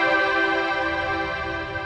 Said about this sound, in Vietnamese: Đây là tiếng string.